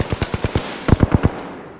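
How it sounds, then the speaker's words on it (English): Rapid bursts of automatic gunfire in a battle royale shooter game, two quick volleys of about six and four sharp shots each, close and loud with no talking. "I'm taking shots. Opening fire."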